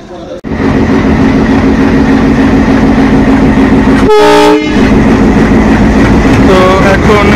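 The Mongla commuter, also called the Betna Express, rumbles loudly and continuously on the rails, with a sharp horn blast about halfway through and a brief fainter toot near the end, heard close by.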